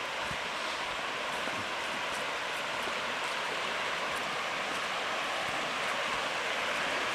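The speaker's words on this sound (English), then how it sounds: "we're down at the bottom. And just thought I'd come to a lookout at the river, so we are assuming this is Noisy River" Noisy River on the Bruce Trail rushing past a lookout, a steady broadband hiss of flowing water heard from nearby with no voices.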